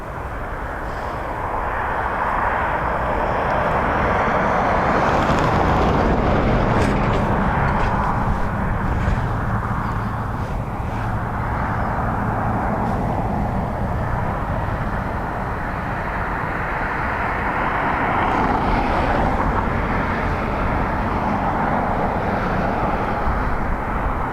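A plane arrives at Dublin Airport in windy conditions. Its jet roar builds from a distance, stays loud and broad for most of the stretch, and is buffeted by gusting wind, with no voices.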